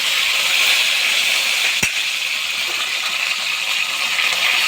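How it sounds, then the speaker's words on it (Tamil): Mustard seeds pop and splutter in hot oil while tempering a South Indian ladies' finger stuffing dish, a steady dense crackle and hiss with one sharp louder pop near the middle, close and continuous with no talking. "கடுகு நல்லா பொரிய விடுங்க."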